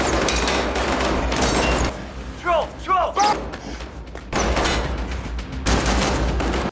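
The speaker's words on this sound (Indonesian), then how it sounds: "Mereka menembak. Amunisi menipis." Gunfire rings out in a film as bursts of shots and heavy thuds rattle through a loud battle scene, with dense stretches of shooting broken by a brief quieter gap and a voice talking over it.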